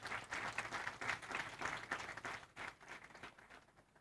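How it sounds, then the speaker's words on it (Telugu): Applause from a church congregation during a Sunday service, a steady patter of many hands clapping together that fades toward the end, with no voices over it. "చప్పట్లు కొడదాం"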